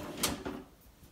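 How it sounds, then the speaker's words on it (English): A soft-closing pull-out cabinet trash bin door shuts with two quick, muted thumps, one close after the other, followed by quiet. "as you can see with the soft closing feature, it closed very softly"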